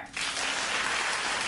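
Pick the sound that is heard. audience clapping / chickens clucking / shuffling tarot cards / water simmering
audience clapping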